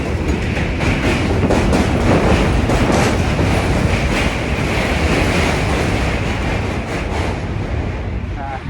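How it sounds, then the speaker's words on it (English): A train passes close by in an urban area with graffiti, giving a loud, continuous rumble with rail clatter throughout the nine seconds, and no voice heard over it. "This train is so loud, but I love the hell out of it."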